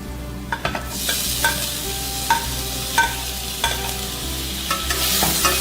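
Onion sautéing with garlic in a pan, stirred: a bright sizzle that swells after the first second, punctuated by regular scraping strokes of the spatula roughly every half second to second.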